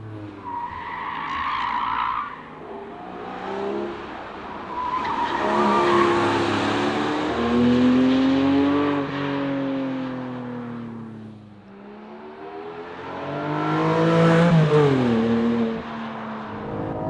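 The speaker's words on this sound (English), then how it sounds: "this is a true race car, so it's also pretty loud in here." A Porsche 718 Cayman GTS 4.0 with its six-cylinder engine, driven hard on a racetrack and heard loud from inside the cabin. The engine note climbs and falls through the gears, mixed with skidding and squealing tires.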